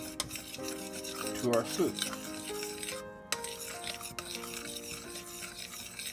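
A spoon stirs thickener into a pot of tomato bisque soup containing garlic, giving soft, close scraping and rubbing strokes beneath a brief spoken phrase.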